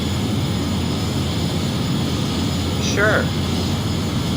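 Airliner engines drone steadily inside a flight simulator game, a constant broadband hum filling the cockpit while a voice speaks briefly over it.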